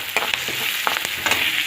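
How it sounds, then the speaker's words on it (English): Curry leaves and green chilies sizzle in hot oil, a steady bright hiss with small crackling pops throughout a short stretch. "Then I'll be adding a little curry leaves."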